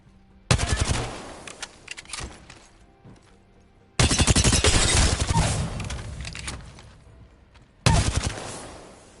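Automatic weapon fire in a first-person shooter game, three long sustained bursts of rapid shots, loud and close, separated by brief quieter gaps.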